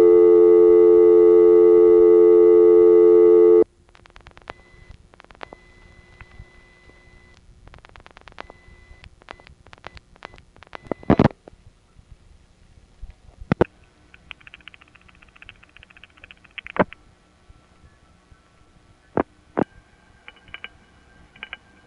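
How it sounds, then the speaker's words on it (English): Clicks and operator tones on a December 1970 telephone call routed through exchanges toward Kennedy Airport: a loud steady multi-tone signal at the start, then scattered mechanical switching clicks and a faint tone burst. "This makes the continuous fast clickies, and then it makes operator tones that you can barely hear"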